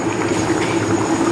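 Egg curry, with fried eggs, cumin powder and Maggi masala, bubbles steadily in a pan on a gas stove, a continuous soft close boiling with no talk.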